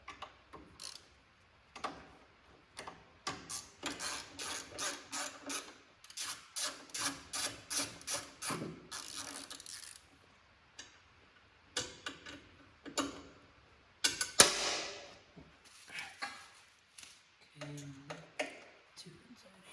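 Crash bar bolts come off a new Harley-Davidson Road Glide with bursts of rapid ratchet clicking, close and fairly loud, separated by pauses and small tool knocks.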